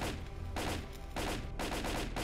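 Gunfire in a STALKER mod, Dangerous Virus, comes as several loud, close bursts of rapid automatic shots separated by brief pauses.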